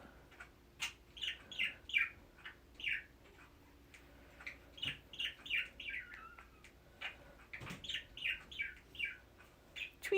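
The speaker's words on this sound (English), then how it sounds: "And that is my budgie tweeting, if you hear it." A pet budgie tweeting indoors, repeating quick bright chirps in short clustered bursts, steady and moderately close, over faint background hum, with no talking.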